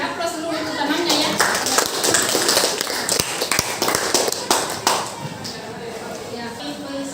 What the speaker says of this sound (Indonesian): Jadi aplaus seluruh temannya ya.